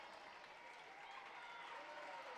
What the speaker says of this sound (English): And the crowd rightly applauding that one as well.